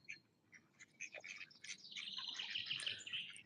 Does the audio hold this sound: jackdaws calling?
yes